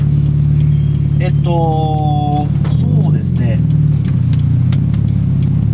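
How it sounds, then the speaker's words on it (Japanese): A Subaru WRX STI (VAB) low muffler exhaust drone rumbles steadily inside the cabin with rain hiss, while a person speaks briefly over it. "雨の日になったらちょっとマフラーの音もかなり静かというか低減されているというか"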